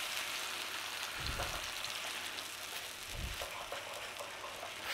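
Red pepper puree with garlic cooking in olive oil over a low flame gives a quiet, steady sizzle and crackle, with two soft low thumps from a spoon or pan, and no talking.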